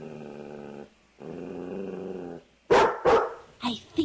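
A dog barks loudly and close by, a few sharp barks that come after stretches of a lower, drawn-out growling whine, with no voices present.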